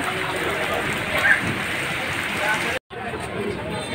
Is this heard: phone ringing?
no